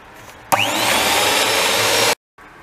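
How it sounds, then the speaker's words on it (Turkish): Electric hand mixer whirring loudly in revani semolina cake batter with baking powder, a steady buzzing run of about a second and a half that starts abruptly and then cuts off to silence. "Şimdi bunu bayağı bir kendine gelene kadar mikserle karıştıracağız arkadaşlar"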